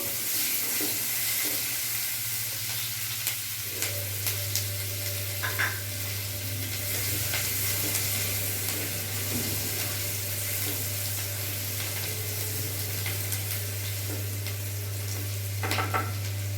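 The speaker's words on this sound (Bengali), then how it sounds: "পেঁয়াজটা আমার একটু ভাজা ভাজা হয়ে গেছে।" Onions frying in a pan for a prawn and pointed gourd curry give a continuous, close sizzle with scattered crackles and occasional stirring scrapes, along with a steady low hum in the background.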